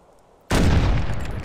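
A shotgun fires once in a hunting video game at an animal. It is a sudden, loud, close blast that carries a sustained rumbling tail.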